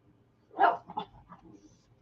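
A dog gives a short yip followed by a few softer playful grumbles and whines, close by with no talking.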